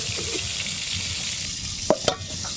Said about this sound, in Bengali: এদিকে এই সবজিগুলো হালকা করে ভাজা হয়ে গেল।